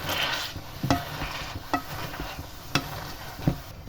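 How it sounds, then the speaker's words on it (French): Cooked apples mashed into a chunky compote with a potato masher, giving soft squelchy presses at a steady pace with light clinks of the masher against the pot. "avec un presse-purée, je vais presser ma compote"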